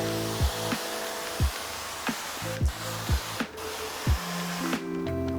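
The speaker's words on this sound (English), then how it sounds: "I'm gonna spray the door down." Short bursts of liquid sprayed from a trigger bottle onto a car door before paint protection film goes on, several quick hissing pumps at close range over a steady background hum.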